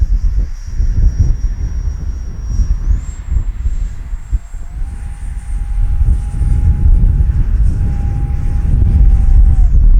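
A small model airplane engine whines steadily overhead, its pitch shifting up in steps, over loud gusty wind rumbling on the microphone.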